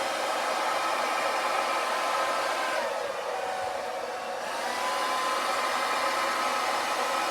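A hair dryer blows steadily on acrylic paint during a neon yellow and black Dutch pour, a close, loud, even rush of air that dips briefly midway, with no talking.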